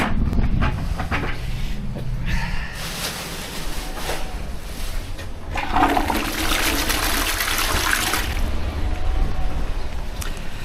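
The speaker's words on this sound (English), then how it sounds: "The hot water and washing up liquid." Hot water mixed with washing-up liquid poured into a toilet bowl at a bungalow, a loud, continuous rushing and splashing of water that swells midway, close up and with no one talking.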